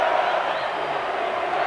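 Home crowd at a 1987 Argentina v Australia rugby test match roaring in Argentina, a dense, sustained wall of cheering and shouting that stays loud and steady throughout.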